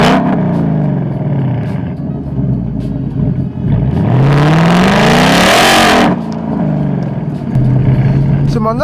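A Ford Mustang GT engine pulls hard while driving, heard from inside the car as a close, loud roar that climbs in pitch for about two seconds before shifting down to a steady drone, with talk over it.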